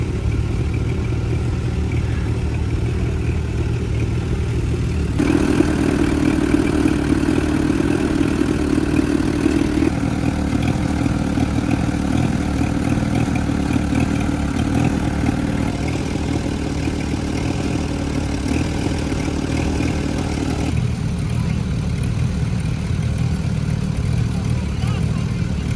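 Tractor set up for pulling with big tires, engine idling in a steady mid-pitched rumble with light clatter, the tone stepping a few times as the sound continues, with someone talking over it.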